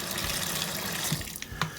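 Tap water runs steadily over raw meat in a container, a close, continuous splashing stream with a few small clinks near the end.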